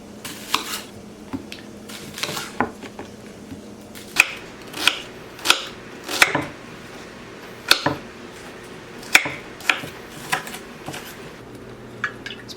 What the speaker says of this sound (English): I cut up the potatoes pretty small because everything is going to